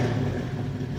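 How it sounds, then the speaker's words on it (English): A Dodge Challenger runs on a Flowmaster 50 Series Delta Flow muffler, giving a loud, steady, deep exhaust rumble that holds close and continuous throughout the short moment without talk. "The Challenger is starting to sound more like a muscle car now,"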